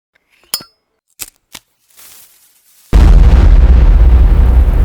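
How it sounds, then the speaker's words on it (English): Explosions inside a light box: a few sharp clinks and pops, then a sudden loud blast that settles into a sustained, heavy rumbling roar. "I do like the way the explosions are lighting up"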